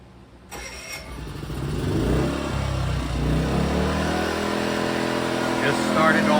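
An EcoFlow smart generator, hooked to a Delta Pro power station, starts by itself with a sudden catch, then its engine ramps up into a steady, loud running drone that holds to the end.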